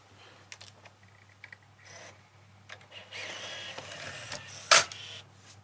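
Old, big, chunky tape camcorder clicking through its controls, scattered small mechanical clicks and clunks close by in a quiet room, with one sharper, louder snap near the end.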